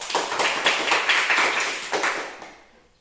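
Schoolchildren in a classroom clap for a classmate, a short burst of quick, somewhat uneven claps that fades out toward the end.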